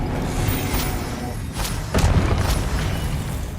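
An Expelliarmus spell cast in the video game Hogwarts Legacy bursts out as a heavy magical boom with a thudding impact near the middle, over a dense, loud bed of game noise and music.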